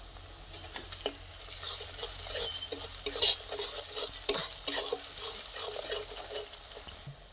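Masala with turmeric is stir-fried in a pan for a country chicken curry: continuous sizzle with repeated scraping and clinking of a spatula against the pot, close and fairly loud, no one speaking.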